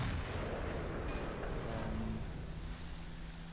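A tank cannon fires in World of Tanks, the AMX 50 Foch tank destroyer: one heavy, booming low-end blast that rolls on with a long rumbling tail, loud and steady and free of any talk.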